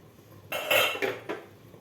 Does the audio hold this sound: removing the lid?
yes